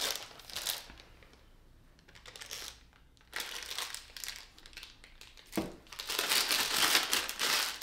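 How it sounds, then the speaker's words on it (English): A plastic piping bag handled and filled with spring-green melted chocolate for drizzling strawberries: close crinkling and rustling plastic in several bursts with quieter pauses between, no talk. "We're gonna go ahead and grab a piping bag as our strawberries dry and pour in our spring green."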